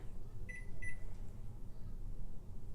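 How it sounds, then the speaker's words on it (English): Oven control panel being set to preheat to 400 degrees in a home kitchen, two short electronic beeps in quick succession, clear and close, followed by a quiet room hum. "Preheat our oven to 400."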